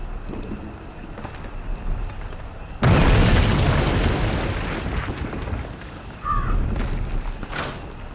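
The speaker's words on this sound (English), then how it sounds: "I think they're setting up some kind of bomb." A bomb goes off in the video game We Happy Few: a sudden loud boom that rolls into a long rumbling decay over steady ambient background noise. A smaller swell of rumble follows a few seconds later.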